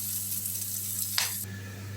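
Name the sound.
chopped onion and green chilli frying in oil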